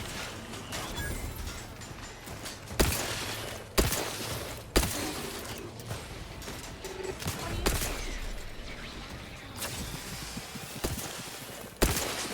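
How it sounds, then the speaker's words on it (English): Turret gunfire in the video game Outer Worlds 2: sharp, loud shots at irregular intervals, a few standing out above a dense, noisy battle mix, with no voice over them. "Okay, there's 2 turrets that were shooting me."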